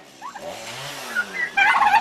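Young Narragansett and Royal Palm turkeys call on a farm, a few close rising chirps and warbling gobble-like trills, the last burst louder and busier.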